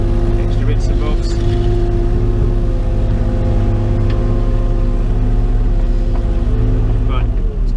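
A site dumper's diesel engine runs steadily close by during a car park dig, a loud, constant, throbbing rumble with faint clanks and a voice speaking over it.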